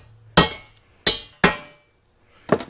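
A metal punch is struck against a bumper to mark a center point before drilling, giving three sharp, ringing metallic taps with short decays, followed by a quicker cluster of lighter knocks.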